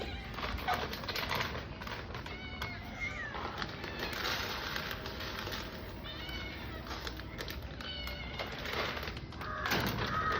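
Several house cats meow repeatedly in the morning while waiting to be fed, their cries rising in short bursts over a steady background hum.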